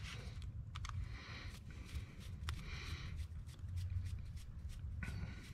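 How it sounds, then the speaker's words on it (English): Small screws being worked loose from a Chevrolet Tahoe five-button flip key remote, with soft close scratching and tapping handling noises over a steady low background hum. "So we'll turn around and take all the screws out."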